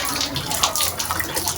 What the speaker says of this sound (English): And here she is adding more water.